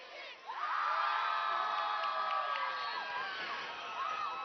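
A small football crowd cheering and whooping in the stands, with overlapping shouts and yells rising quickly and holding at a steady, moderately distant level.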